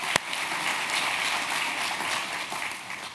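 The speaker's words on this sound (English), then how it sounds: "So maybe we could give him a hand of applause." Sustained audience applause at the Stanford Online High School awards ceremony in 2017, a dense, steady wash of many hands clapping at an even level for the whole stretch, with one sharper clap near the start.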